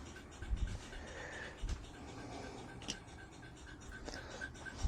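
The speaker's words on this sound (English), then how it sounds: "You can hear it clicking away there." A fusee pub clock movement ticks away faintly in a quiet room, a steady run of small, evenly spaced clicks with a couple of soft handling bumps near the start.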